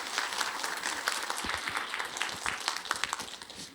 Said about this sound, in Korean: 신부님 여러분 뜨거운 박수로 맞아주시기 바랍니다.